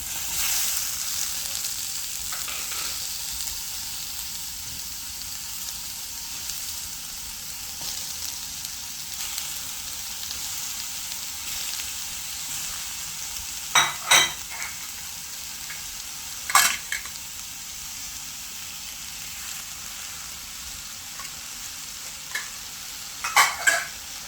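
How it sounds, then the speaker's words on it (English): Strawberry topping for a cheesecake cooking in a pan, a soft steady sizzle and bubbling under occasional sharp scrapes and clinks of stirring, close and with no talking. "Making my strawberry topping, guys, but I am using a mixture."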